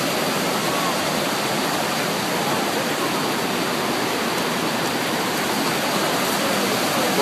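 Hidden Falls in the Teton Mountain Range roars as a constant, loud, close wash of falling water, unbroken from start to finish with no talk over it.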